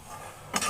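Cooked fish egg curry scraped and poured out of a cooking pan after the flame is switched off, a brief close scrape of utensil on metal rising at the end of a short stretch of low kitchen hiss.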